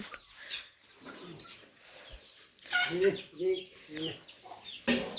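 Chickens cluck near a rice mill at a rural farmyard, with several short, close clucks in uneven bursts that grow louder toward the end, while people talk intermittently.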